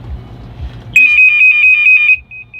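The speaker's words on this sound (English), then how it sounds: "This is an alarm." A loud electronic alarm device gives a piercing continuous tone that pulses slightly, first on its high setting for about a second, then switching to softer, shorter beeps on low, very close.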